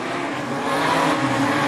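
Modified sedans roar around Kingaroy Speedway in a heat race, a dense, loud wall of engine noise that swells slightly as the pack presses on, with no voices over it.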